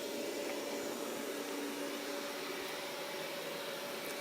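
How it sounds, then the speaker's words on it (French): A Roborock S6 MaxV robot vacuum cleaner runs with a steady, faint motor whine and soft airy hiss, constant and unchanging throughout, with no voices. "Ça change vraiment tout dans l'utilisation qu'on peut avoir d'un aspirateur robot."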